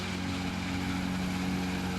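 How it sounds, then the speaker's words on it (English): The spinning black fluted, intermeshing conditioner rolls of a disc bine mower conditioner whir steadily while mowing hay, a continuous droning hum with tonal whine, heard without talk. "Those black rolls that are spinning and making that whirring noise are the conditioner part."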